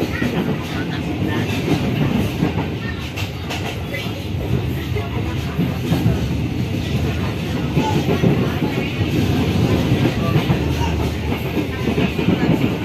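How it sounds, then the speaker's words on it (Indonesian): The KA Commuter Line Garut train rumbles steadily into Garut station with a continuous low roar of wheels on rails, faint rhythmic clatter and hiss throughout, heard from on board. "Kereta api komuter lain Garut kini telah sampai di stasiun Garut ya"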